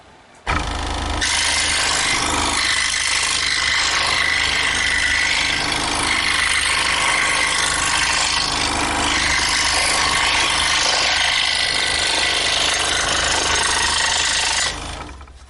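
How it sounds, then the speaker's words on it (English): Scroll saw with a No. 5 ultra reverse tooth blade cutting curves through 1/4 inch material; a continuous loud rasping buzz of the reciprocating blade starts abruptly and runs steadily, then stops near the end. "the scroll saw will simply fly through the material with a fresh sharp blade through the 1/4 inch material here"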